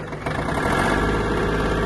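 Small diesel engine of a Kubota L1-185 Japanese mini tractor running steadily, a close, continuous mid-to-low rumble that holds level throughout with no voices.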